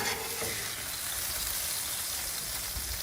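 French toast and sausage frying on a Blackstone griddle, a steady dense sizzle like light rain that holds evenly throughout at moderate loudness with no talking.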